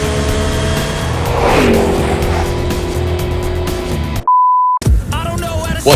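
An MG ZS EV electric car accelerates hard from 0 to 100 in sport mode on a clear road, a rising whine and road rush building, broken by a short beep and brief silence.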